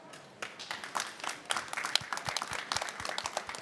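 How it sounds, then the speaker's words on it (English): An audience at a COP29 climate dialogue applauds a panel of farmers' voices. The clapping is moderately distant and fairly soft, building from scattered claps into steadier applause. "join me in thanking this great panel with a round of applause"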